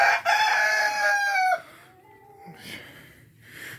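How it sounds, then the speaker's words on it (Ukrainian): A rooster crows loudly and close by in a yard beside a greenhouse, one long stretched call that fades into quieter clucking and rustling from the chickens. "Вон курочки бігають."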